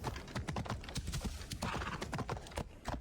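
A horse in Assassin's Creed Odyssey stamps its hooves in dense, uneven clip-clops and gives a whinny, all close and fairly loud with no talk.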